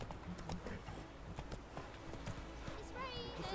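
Hoofbeats from Roach, Geralt's horse in The Witcher 3, clip-clop at a slow, uneven pace amid ambient game sound, with a voice talking over them.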